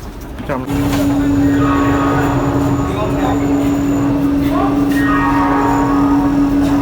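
A Vande Bharat sleeper train from Howrah rumbles loudly and continuously with a steady droning tone, while people talk nearby.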